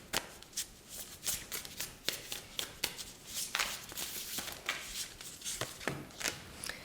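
Tarot cards being shuffled and laid out, a soft run of riffling flicks and crisp snaps of cards landing, close and quiet with no talking.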